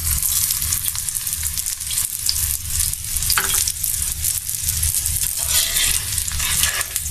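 Egg crepe frying in oil in a pan for a spicy egg pancake snack, a steady loud sizzle running throughout with occasional stirring scrapes, no voices.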